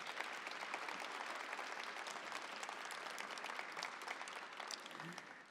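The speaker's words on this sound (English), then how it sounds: "we need to give them another rounding applause" Faint, distant applause from the audience at a transit agency press briefing, honoring Metro ambassadors and frontline staff, holds steady for several seconds before tapering off at the end.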